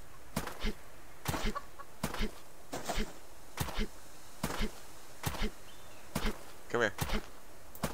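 Chickens in the survival game Subsistence give brief clucks over a regular beat of footsteps, with a sharper squawk near the end.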